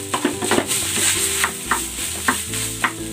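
Garlic rice seasoned with salt and oyster sauce stir-fried in a hot pan: a steady close sizzle broken by repeated scraping clinks of a spatula against the pan, with no voices.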